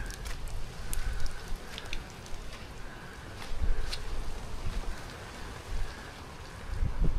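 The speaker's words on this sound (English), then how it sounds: "It's been out all night in this pouring rain." Torrential rain on a tent hisses in a dense, continuous wash, with scattered sharper drops tapping nearby over a low rumble.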